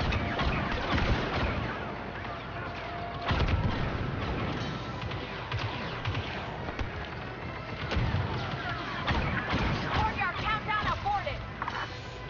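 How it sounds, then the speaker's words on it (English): A grenade blast and gunfire in Star Wars Battlefront 2 on Yavin 4, with repeated booming impacts and rattling shots over continuous battle noise and voices throughout. "someone threw a grenade"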